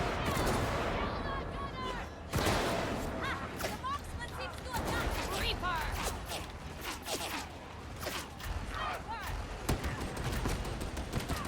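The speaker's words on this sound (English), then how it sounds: "There's a whole lot of snipers." Scattered gunfire with sharp cracks and heavier booms from snipers in Warhammer 40,000: Darktide, layered under someone talking over the game's noisy combat din.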